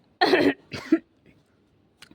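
A person coughs two or three times in quick succession, fairly close and clear, then a faint tap follows in otherwise quiet surroundings.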